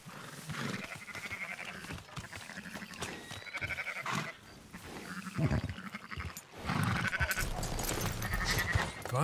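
Sheep bleat repeatedly in Red Dead Redemption 2, over a busy, layered background of other game noises, fairly loud and close.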